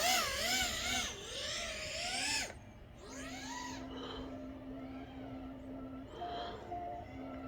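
A drone with propellers in puller configuration flies close by, its motors giving a loud whining buzz that rises and falls in pitch, then settles into a steadier, quieter hum with brief surges.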